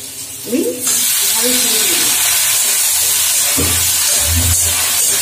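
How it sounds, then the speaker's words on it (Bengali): Mangoes and okra stirred in hot oil give a steady frying hiss that fills the clip, with someone talking over it and a few louder bursts of sizzle near the end. "এই আমগুলো যেমন তেলে নাড়ছি, সঙ্গে সঙ্গে ওর মধ্যে আমি একটু সবজি দিচ্ছি"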